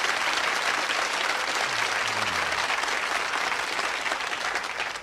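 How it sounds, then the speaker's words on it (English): An audience at a motivational speech breaks into sustained applause, a dense wash of clapping from many hands that carries steadily and tapers slightly at the end, with a faint voice briefly beneath it. "Give yourselves a round of applause"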